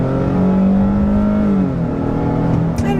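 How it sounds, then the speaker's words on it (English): A 2022 Nissan Frontier Pro-4X pickup with a V6 accelerates on a back road, its engine drone rising steadily in pitch and loudness as it pulls from inside the cab, with no talking. "let's turn down onto this back road here and see how it accelerates"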